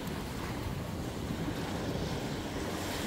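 Sea waves wash steadily against a seashore, a continuous, fairly close rushing surge mixed with wind buffeting the microphone, with no voices.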